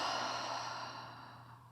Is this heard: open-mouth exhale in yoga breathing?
yes